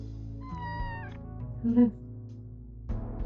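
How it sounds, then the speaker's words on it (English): A cat meowing in the video game Kathy Rain 2 gives a drawn-out rising meow, then a shorter, louder mew a moment later, close and clear over a soft game background with some talk around it. "We have to say hi to the cat."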